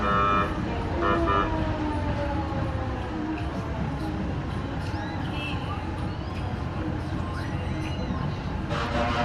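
Fire truck horns toot during a Santa Claus parade, several honks sounding amid heavy traffic rumble and crowd noise, with voices talking throughout.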